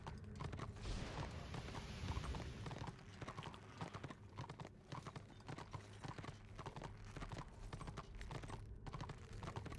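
Horse hooves gallop in a steady, continuous clip-clop rhythm in the online fantasy game Warhammer Online, loud and close throughout, with a brief whinny and game ambience around them.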